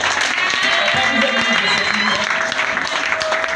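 Congregation at a French-language deliverance church service clapping and cheering loudly and steadily throughout, a dense continuous roar of applause with voices mixed in.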